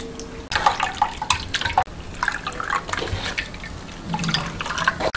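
Juice drips and streams from a cloth bag of squeezed apple and pear while making mul-kimchi, with close, splashy, uneven trickles and a few brief pauses.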